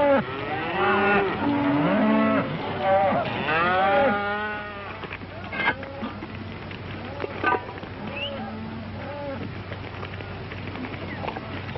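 Cattle moo repeatedly in the first half, long drawn-out calls from several animals, then quieter lowing and scattered knocks. A steady low hum sits underneath throughout.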